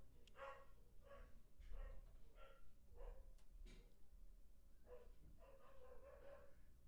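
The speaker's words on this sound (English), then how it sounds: "can obviously hear my dog, I presume." A pet dog in a home barks repeatedly in short, uneven bursts. The barks sound faint and somewhat distant over a low background hum.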